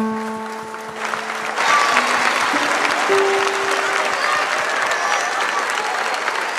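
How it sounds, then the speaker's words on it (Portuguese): A church congregation gives a round of applause for Jesus at a bishop's 75th-anniversary service, loud, dense clapping swelling in after a held organ-like chord and continuing strongly, with crowd voices underneath. "vamos dar para Jesus uma linda salva de palmas"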